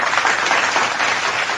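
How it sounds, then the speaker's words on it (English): Applause sound effect on a podcast, a steady dense wash of clapping that runs loud and unbroken for the whole short stretch with no voices over it. "Oh, they turned the claps on."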